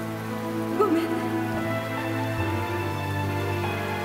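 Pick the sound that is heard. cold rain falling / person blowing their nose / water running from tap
cold rain falling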